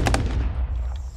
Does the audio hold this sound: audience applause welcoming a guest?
no